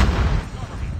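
A grenade detonates in the Call of Duty Mobile shooter game, a heavy, close boom that decays into a low, rolling rumble across the short clip.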